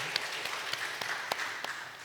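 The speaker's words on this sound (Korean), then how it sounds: "하나님 영광에 박수 드리겠습니다." Congregation in a church sanctuary during a Sunday worship service claps in applause, sparse and somewhat distant, with a few sharper individual claps standing out over a soft, steady hum of the room.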